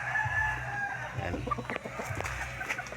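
A fighting rooster (tandang) crows and clucks close by, with brief clucks and calls over low background noise, and a person speaks a word briefly.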